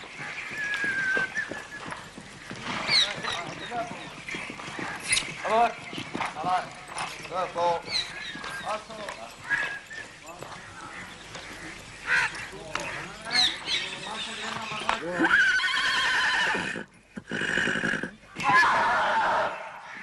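Horses clip-clop at a gallop, with a faint whinny, in a scene from an old Pakistani PTV television drama; the hoofbeats are busy and steady under loud, overlapping voices throughout.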